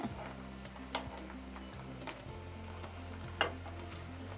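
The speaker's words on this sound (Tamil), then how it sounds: "அப்படியே ஒவ்வொரு பீஸாக பொறுமையாக பரட்டி விட்டுக்கலாம்" Puffed-rice pieces fried in a pan and turned one by one, a steady low sizzle broken by sparse light taps and scrapes of the utensil, no talking.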